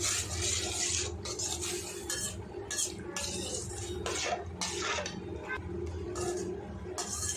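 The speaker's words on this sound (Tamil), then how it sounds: "இப்போ இது கூட தேவையான அளவுக்கு சால்ட்டு சேர்த்துட்டு இது நல்லா கலந்து விட்டுறேன்." Coconut milk with salt being stirred in a pot on the stove, a steady wet swishing and scraping with light clinks of the spoon against the metal, close and continuous without talk.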